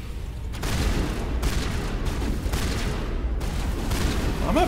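Shotgun blasts in the 2007 sci-fi shooter Mass Effect boom loudly amid dense, overlapping combat noise, with several heavy bursts roughly every second against a constant rumbling background.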